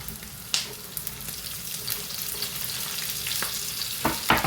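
Onions and green chillies frying in oil in a pan, a steady soft sizzle with a few sharp stirring clacks, close and moderate in level, without speech.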